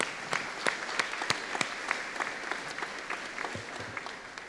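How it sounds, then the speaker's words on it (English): A graduation ceremony audience at a secondary school applauds, a moderate crowd clapping with distinct individual claps standing out, steady and somewhat distant. "Let's give them a round of applause."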